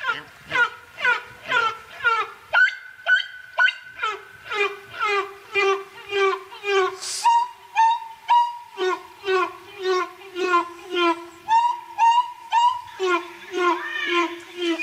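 A catbird's song played fast and high-pitched, a rapid string of chirpy, squeaky notes repeating in quick rhythm throughout.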